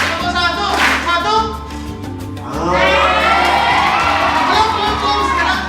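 A group of children in a rabies and animal-welfare outreach session claps along in a clapping game, with bursts of rhythmic claps mixed with loud shouting and cheering from the crowd of kids.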